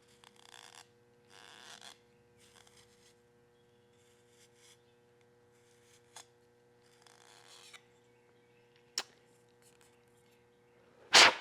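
Bevelling the edge of an arrow shaft so an outsert collar slides over it, producing faint, short scraping rasps in two brief bursts separated by quiet stretches with a few soft clicks, ending in a sharp knock.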